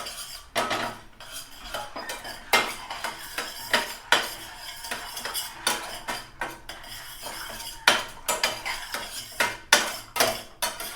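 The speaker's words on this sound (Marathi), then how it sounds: "इकडे जे आपण दूध गरम करत ठेवलं आहे ते टाकून घ्यायचं याच्यात हे बघा चांगलं मिक्स करून घ्यायचं" A spoon scrapes and clinks steadily against a metal pan as hot milk is mixed for basundi, with sharp, rhythmic strokes repeating close up.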